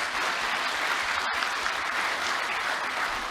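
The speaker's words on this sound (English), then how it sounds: "the person who deserves the most applause is Martin" Conference audience applauding at an annual report session, a continuous even wash of clapping with a momentary dropout partway through, no talk over it.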